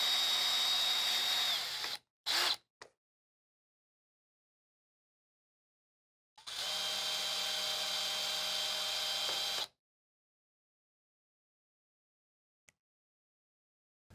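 A power drill backs out screws from the rear foam cover of a Furrion RV air conditioner condenser, whirring in two steady bursts, one short and one about three seconds long, with silence between.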